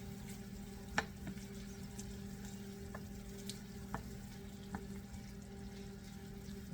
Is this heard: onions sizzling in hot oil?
yes